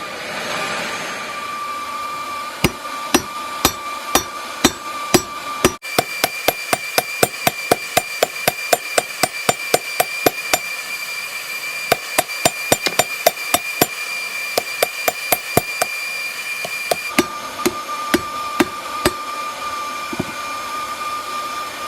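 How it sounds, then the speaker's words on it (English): Steady, rapid ringing hammer blows strike hot Damascus steel at the forge during forge welding, dozens of loud metallic hits in an even rhythm over a constant roaring forge, with a brief pause partway through. "trying to get the metal to forge together"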